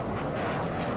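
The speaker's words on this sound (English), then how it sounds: "Oh, it's a plane." A broad, steady roar of an airplane passing overhead fills the scene in Dying Light, loud and continuous with no voices.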